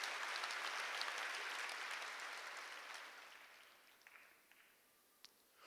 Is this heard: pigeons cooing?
no